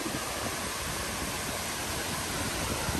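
Khlong Lan waterfall crashing down at its base, a steady, loud, dense roar of falling water with close spray and no break, heard alone.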